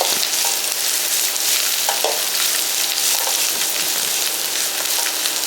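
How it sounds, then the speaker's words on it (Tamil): Dried chillies and garlic sauté in a pan for appalam kuzhambu with a loud, steady sizzle and crackle, close-up and unbroken, with occasional stirring scrapes. "போட்டு எல்லாத்தையும் நல்லா சேர்த்து வதக்குங்க"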